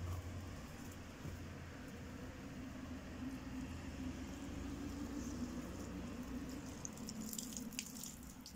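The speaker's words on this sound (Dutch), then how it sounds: "Dan gaan we eerst hier eventjes deze plankje even water geven." Water pours steadily onto plants in a garden on a work day, a continuous soft splashing rush under low background rumble.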